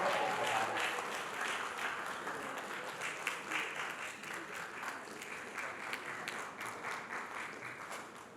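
Audience applause for a speaker taking the stage at an African nonprofit summit: sustained, fairly distant clapping from a crowd that holds steady for the whole stretch and fades slightly at the end.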